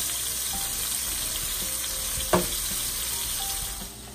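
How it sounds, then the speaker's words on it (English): Steady sizzling and crackling of food frying in a pan, with a brief clink of a utensil partway through; no talking. "I'm just gonna saute this till it's nice and brown"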